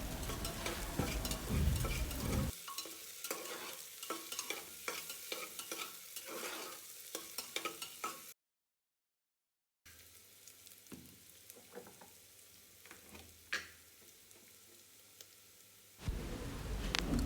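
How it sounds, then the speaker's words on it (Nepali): Ginger garlic paste frying and being stirred in a pan while cooking a dry white peas curry, with steady sizzling and repeated scraping stirs. After a short gap the frying goes on more quietly with scattered clicks. "अब यसमा पिसेर राखेको अदुवा लसुनको पेस्ट एड गर्ने र यसलाई पनि राम्ररी मिलाएर चलाएर पकाउने।"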